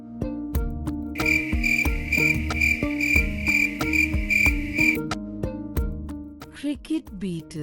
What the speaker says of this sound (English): Cricket beetle.